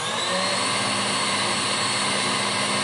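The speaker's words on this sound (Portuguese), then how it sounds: "Então eu vou ligar minha batedeira aqui" Electric stand mixer running at full speed while beating batter for a bûche de Noël, a steady, loud motor whine that holds without a break and with no talking.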